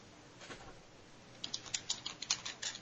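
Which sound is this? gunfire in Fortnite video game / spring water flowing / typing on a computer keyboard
typing on a computer keyboard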